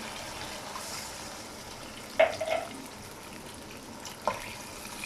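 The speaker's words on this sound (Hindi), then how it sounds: "अब हम पानी शामिल करेंगे।" Water poured into fried masala in a pot while cooking aloo pulao gives a soft hiss. Two brief splashing bursts stand out over faint background noise, and no voices are heard.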